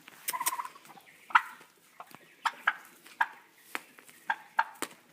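Turkeys make soft clucks, chirps and quick purring calls up close, scattered irregularly, with faint pecking taps between them.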